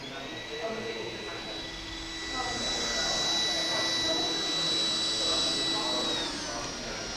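At a trade show demonstration, an iRobot Roomba 980 robot vacuum moves from hard floor onto carpet with a steady motor whir that swells and grows louder midway, then eases back, over faint background chatter.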